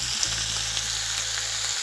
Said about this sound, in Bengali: আমি এটাতে ধনিয়া পাতাটা অ্যাড করে নিচ্ছি, নিয়ে আবারও সব কিছু খুব ভালোভাবে মিশিয়ে নিচ্ছি।